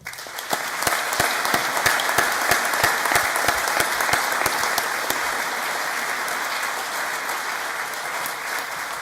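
Sustained audience applause at a college graduation ceremony, a dense, steady wash of many hands clapping in a large hall, loud throughout and fading slightly toward the end.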